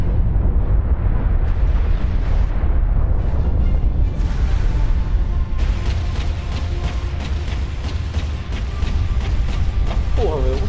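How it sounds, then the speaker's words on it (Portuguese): A shot destroys an aircraft in Warhammer 40k: Space Marine, setting off a loud, dense explosive roar with mechanical clatter and a voice talking over it. "um tiro destruiu a aeronave no meio"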